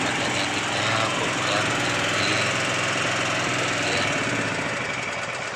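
A smoky, oil-burning generator engine runs continuously, loud and close, with a steady rough chugging drone and no pauses.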